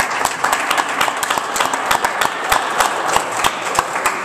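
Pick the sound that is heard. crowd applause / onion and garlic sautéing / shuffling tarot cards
crowd applause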